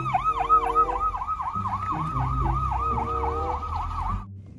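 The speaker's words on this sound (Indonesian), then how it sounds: "Mobil ambulan." A toy ambulance plays its electronic siren, a rapid repeating wail that loops steadily for about four seconds before cutting off abruptly, loud and close.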